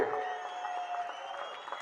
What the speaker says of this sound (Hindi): जोर से ताली बजाइए इनके लिए।